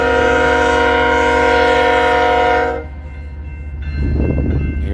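An empty northbound freight train departs Pacific Junction, sounding a loud, sustained multi-tone horn blast up close, then cutting off into the rumble of the moving train, with a shorter second horn note at the end.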